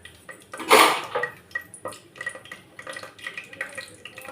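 Mustard seeds hit hot oil in a pan while cooking arisi paruppu saadham, giving a sharp burst of sizzle and crackle followed by lighter scattered pops and clinks, close and alone without speech.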